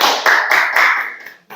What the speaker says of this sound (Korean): 박수로 한번 시작해 볼까요?